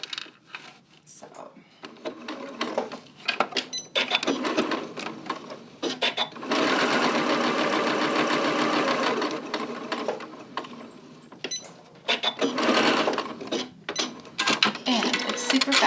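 A sewing machine stitches a lined zipper pouch's lining in several fast bursts of rapid, even needle clatter, stopping and restarting, with someone talking in between.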